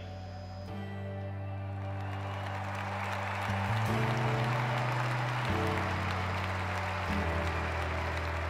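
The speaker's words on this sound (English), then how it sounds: "So the 4 German team members walk forward applauding and clapping." Applause from a stadium crowd at the London 2012 Paralympic athletics greets the German bronze medalists, steady clapping under loud sustained music and tones that swell toward the end.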